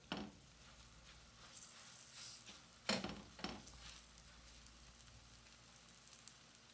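Rolled lachha paratha dough set on a hot tawa greased with cooking oil, giving a soft steady sizzle with a few sharper crackling bursts near the start, close and alone.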